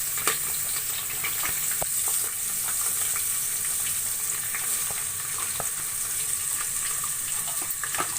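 Onion, ginger and garlic fry in a pan for vegetable biryani, a continuous close crackling sizzle with scattered pops and occasional stirring scrapes.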